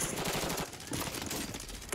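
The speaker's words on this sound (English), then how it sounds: "I've been sniped from top tower" Heavy gunfire in the Warzone battle royale video game, dense continuous shooting that fills the whole stretch with a brief dip near the middle, loud and close, sniper fire coming from a top tower.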